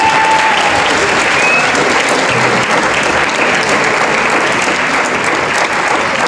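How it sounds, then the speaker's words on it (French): An audience at a student improv theatre night and prize-giving applauds the jury with loud, dense, unbroken clapping that holds steady throughout. "on va les applaudir bien fort pour qu'ils viennent donner leurs résultats"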